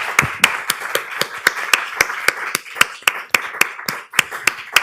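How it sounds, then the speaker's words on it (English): Audience at a poetry reading applauding a poet, Dennis Christie: a small group claps in a fairly regular rhythm with distinct, sharp hand claps, heard close and fairly loud. "how about a big round of applause for Dennis Christie?"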